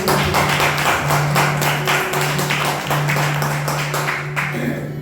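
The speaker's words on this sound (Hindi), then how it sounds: "थोड़ा जोर से ताली बजाइए" An audience at a Sunday worship service claps loudly in a steady, rhythmic beat, the sharp claps repeating evenly over a low sustained hum.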